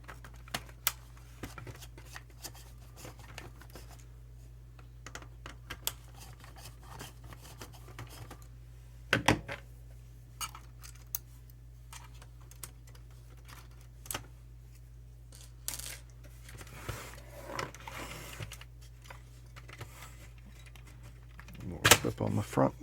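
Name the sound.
removing front knob and screws from Onkyo R-805X receiver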